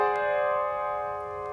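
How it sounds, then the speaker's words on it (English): A sustained French augmented sixth chord rings out on a piano-like keyboard, several notes struck together and held, slowly fading over about a second and a half with no talking. "that's the French augmented 6 chord"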